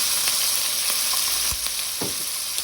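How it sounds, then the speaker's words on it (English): Sofrito and recaito sauté in hot oil with a close, steady sizzle, broken now and then by soft stirring taps. "So now I'm going to be adding my sofrito."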